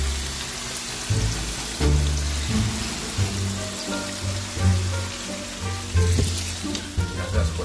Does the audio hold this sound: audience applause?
no